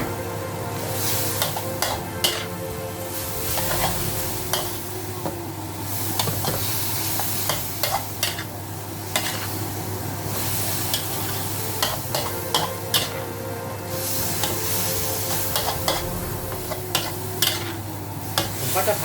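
Bean sprouts and green onion stir-fry in a hot pan: a constant loud sizzle runs throughout, punctuated by frequent sharp clacks and scrapes of the spatula against the metal.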